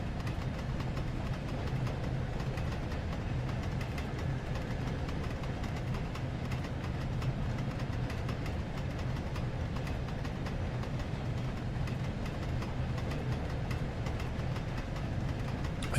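Steam train running in the Train Sim World 3 video game, heard as a steady, low, moderately quiet engine rumble that continues unchanged throughout, with no talk.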